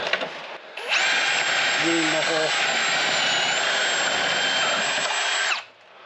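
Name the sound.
drill enlarging a hole in a Toyota RAV4 frame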